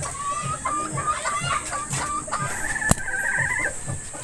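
Pullet chickens cluck and peep in a steady, busy rhythm while being fed, close by, with a person talking among them.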